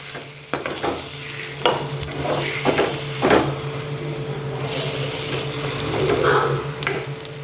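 Steady oil sizzle of tomatoes frying in a pan for chutney, with a few sharp stirring scrapes and clinks of a utensil against the pan.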